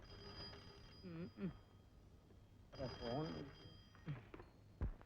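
A telephone rings in a Malayalam movie scene, its bell-like tone running steadily through the clip beneath intermittent voices.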